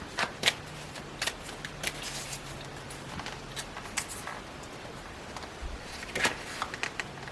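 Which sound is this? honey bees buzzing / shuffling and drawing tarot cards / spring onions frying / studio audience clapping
shuffling and drawing tarot cards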